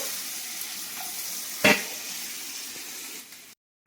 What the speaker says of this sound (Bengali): কড়াটা তেল গরম হয়ে গেছে, আমি চিংড়ি মাছগুলো দিয়ে দেবো